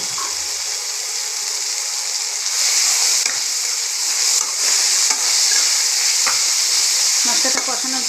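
Spice paste with chilli fries for a capsicum chicken curry, giving a loud, steady hiss and crackle that swells slightly midway, with occasional spoon knocks and a faint voice underneath.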